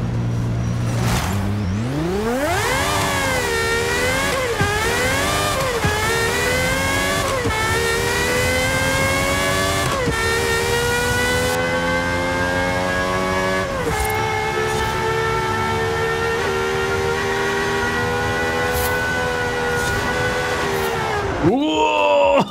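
A GMA T.50 supercar in Forza Horizon 5 accelerates hard through its gears, the engine screaming upward in repeated rising sweeps with brief dips at each shift, loud and close for the whole run, with a voice talking over it.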